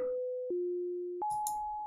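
Pure sine tones from a VCV Rack synth patch, a steady electronic pitch that jumps between three held notes, each change marked by a soft click, with faint background noise near the end.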